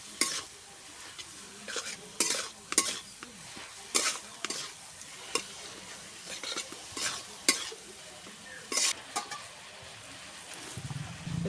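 Spices, dried red chilli paste, radish and fish stirred and fried together in a pan, with quiet sizzling and a series of sharp spatula scrapes and knocks at irregular intervals, no talking.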